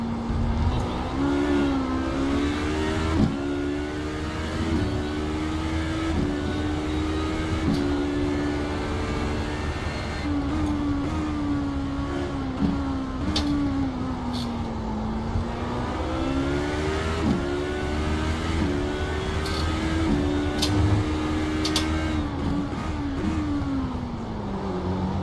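Race car at full throttle during a 1000 km endurance test race at Portimão, engine note climbing and dropping through gear changes as it closes on a slower car, steady and close throughout with no talk.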